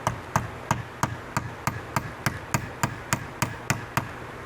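Hammer tapping a deep well socket to drive the pin on a Marker Alpinist ski binding heel piece: about fifteen evenly spaced, close metallic knocks in a steady rhythm, with no voices.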